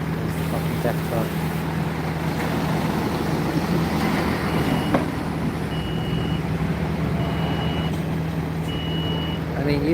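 Truck reversing at a slaughterhouse, its backup beeper sounding in evenly spaced tones over a constant engine drone, with someone talking nearby.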